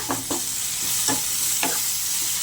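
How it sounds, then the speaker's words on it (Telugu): Onions fry in a pan for a Godavari prawn and raw mango curry, a steady close sizzle broken by four or five quick stirring scrapes of a spoon against the pan; no talking. "ఉల్లిపాయలు అయితే బాగా ఫ్రై అయినాయి కదా"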